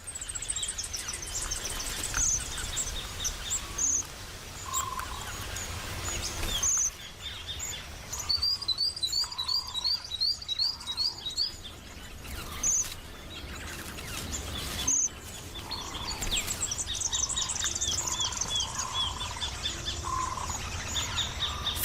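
Red-browed finches and a diamond firetail calling in Australian bushland, with thin high chirps and short trilled call series repeating over a steady, moderately loud background of insect and bird chorus, no voices.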